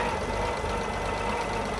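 The 4.2 litre 2F petrol six in a 1976 Toyota FJ40 Land Cruiser idles close and loud, a dense, even, rumbling drone with no voices over it.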